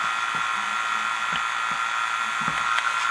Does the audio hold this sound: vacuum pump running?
yes